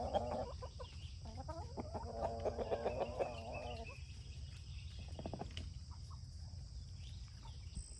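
Chickens cluck in short bursts close by for several seconds, then quieter, with crickets chirping steadily in the background.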